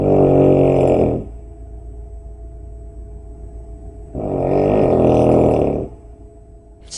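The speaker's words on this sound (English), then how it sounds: "We say that my mum's snoring makes the roof rattle." A woman snores very loudly in her sleep, giving two long, harsh, rumbling snores separated by a quiet pause of a few seconds.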